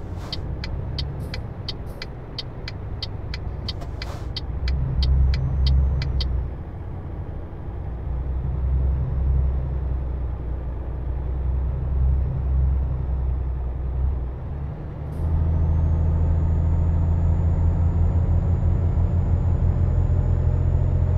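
A heavily loaded truck engine drones and rumbles in Euro Truck Simulator 2, a steady low hum that swells and shifts as gears change, with a string of clicking ticks early on.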